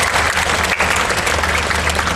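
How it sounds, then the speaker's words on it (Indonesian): Audience applause at a motivational seminar fills the room, a thick, loud and continuous patter of clapping hands over a low hum from the hall. "Tepuk tangan sama teman-teman"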